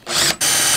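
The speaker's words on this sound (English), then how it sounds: "let's drill a hole in here real quick." Power drill boring a hole in chicken coop wood, a short close whine with a brief dip in speed before it runs on steadily.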